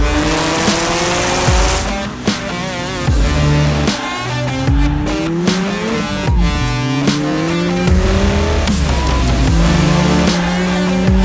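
A Mazda Miata on tires studded with bolts drives on thin ice, its engine revving up and down in rising and falling sweeps with tire squeal and skidding noise, loud and continuous throughout.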